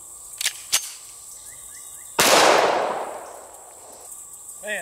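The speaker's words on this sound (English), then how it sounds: "Now let's hit it with the 45 ACP" Two sharp 230-grain .45 ACP full-metal-jacket shots from a Springfield Armory 1911 A1 pistol ring out close by, then a third louder crack with a long washing echo and a faint metallic impact on the kettlebell target.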